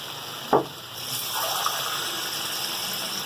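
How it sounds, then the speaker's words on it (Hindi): A cup of water is poured into nihari masala cooking in a pot, a short splash followed by a steady gushing pour under a constant kitchen background hiss. "मैं 1 कप पानी और डालूंगी"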